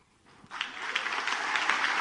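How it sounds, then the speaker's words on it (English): Audience applause at a Donald Trump speech, a crowd clapping that rises from quiet to a dense, steady roar and keeps going loud to the end, with no talk over it. "And the applause went on."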